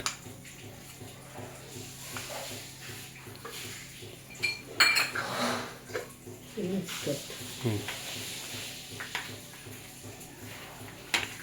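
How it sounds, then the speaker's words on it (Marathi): Chilli powder, turmeric and spices are mixed in a dish, giving scattered metal-on-dish clinks and scrapes at close range, with one louder clatter partway through and a steady background hum. "आता हे सर्व मिक्स करून ठेवणार आहे."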